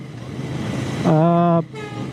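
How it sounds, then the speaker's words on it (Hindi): A single GT650 motorcycle horn honk sounds for about half a second, a bright buzzing tone over the steady hum of the running engine, on the road from Pune to Goa. "मैं हॉर्न बजाते हुए जा रहा हूँ।"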